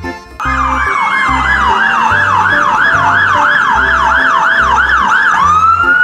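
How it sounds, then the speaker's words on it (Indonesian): A toy fire engine blares its electronic siren, a loud rapidly wailing tone that rises and falls over and over, backed by a pulsing low beat, starting abruptly and continuing for about six seconds with no speech. "Di sini ada mobil damkar."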